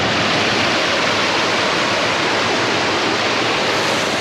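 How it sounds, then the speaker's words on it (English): River water rushing in a Vermont stream, a steady, close broadband roar that never lets up, with no voices. "So that's where the river is supposed to be, off to the right."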